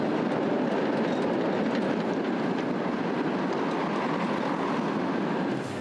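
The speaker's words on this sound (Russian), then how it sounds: "Когда едет поезд, это как маленькое землетрясение." A train passing beneath an 18-metre road bridge, a loud and steady rumble of wheels on rails that carries on unbroken for several seconds with faint clatter mixed in, no voices.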